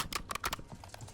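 A weapon is reloaded in Call of Duty Warzone with a quick burst of crisp mechanical clicks and clacks, close and distinct, lasting about a second.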